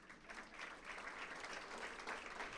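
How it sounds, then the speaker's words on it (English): Audience applause fills a hall for a regional business leader at a State of the Region event in Torrance, steady dense clapping sustained evenly throughout without voices. "Give him a big round of applause"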